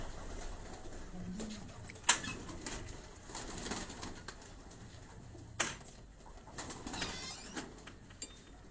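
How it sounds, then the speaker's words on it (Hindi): Flying (racing) pigeons coo softly nearby, mixed with a few sharp fluttering wing flaps and rustles in a quiet setting. "ये परवाजी कबूतर हैं,"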